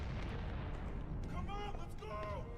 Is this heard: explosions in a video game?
yes